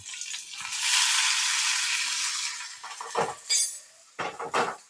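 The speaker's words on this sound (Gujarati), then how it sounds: "આપણું તેલ ફાઇનલી ગરમ થઈ ગયું અને આપણે નાખી દઈએ અંદર, મસાલો એડ કરી દઈએ." Spices tipped into hot oil set off a loud, steady sizzle lasting a few seconds, followed by several close metal spoon clinks and scrapes against the pan as the mixture is stirred.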